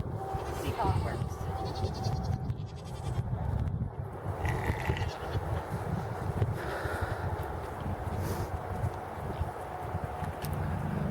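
Goats bleat intermittently over a busy farmyard background, with a person talking nearby throughout.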